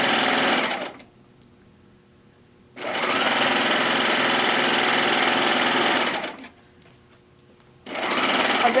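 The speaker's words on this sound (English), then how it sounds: "we're just going to sew all the way down" Sewing machine stitching a straight apron seam made from a fabric panel, two long steady bursts of rapid mechanical whirring separated by a quiet pause, with a third run starting at the end.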